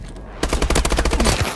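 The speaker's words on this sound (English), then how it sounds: "we did get the headshot there" Loud automatic gunfire in Call of Duty: Advanced Warfare, a rapid close burst of shots lasting about a second with no talk over it.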